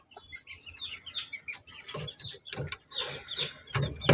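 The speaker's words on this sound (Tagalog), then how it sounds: "pasyal ko kayo dito sa ating mga sisiw" Month-old chicks and hens in a backyard cluck and peep in busy overlapping bursts, close by and fairly soft.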